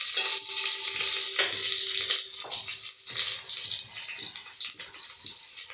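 Ginger and green chilies drop into a hot pan and fry, giving a steady, loud, close sizzle that holds throughout with slight shifts as the pieces settle.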